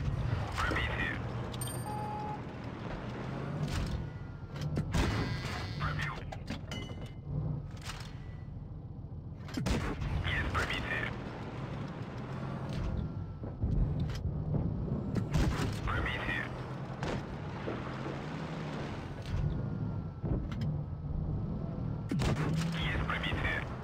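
Tank cannon shots and gunfire in World of Tanks Blitz, a tank battle video game, with autoloader guns firing several rounds in quick succession over a steady engine rumble, loud and close throughout.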